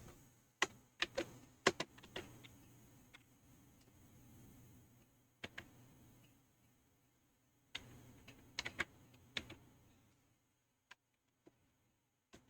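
A computer keyboard is tapped quietly in short, irregular bursts of clicks as a search term is typed, with pauses between the bursts and a few isolated keystrokes toward the end.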